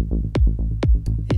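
A rolling techno bassline in mono, deep pulsing bass notes in a quick steady pattern punctuated by sharp percussive hits, loud and alone.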